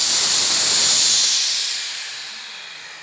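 Air suspension on a 1939 Hudson rat rod dumping air in one loud, close hiss that is strongest at first and then slowly tapers off, with no talk.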